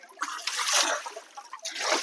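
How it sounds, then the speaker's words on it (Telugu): Water poured over a Mahindra tractor during washing splashes and splatters in close, uneven bursts, rising and falling across two seconds with a brief lull near the middle. "ఇక చేతుడు మొత్తం నీళ్ళు పోసి కడిగేస్తే ఏమైనా తెల్లగా ఉంటే వెళ్ళిపోతుంది."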